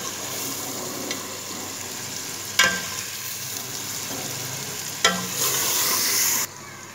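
Chicken pieces sizzling steadily in hot oil in a pan while being stirred, with a few sharp scraping clatters of the spoon and a continuous close frying hiss.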